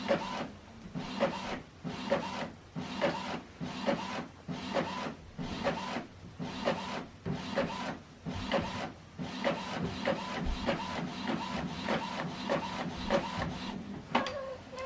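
An Epson WF2930 printer pulls paper through its automatic document feeder, giving a steady series of rhythmic mechanical swishes and rubs, close and moderately loud with no talking.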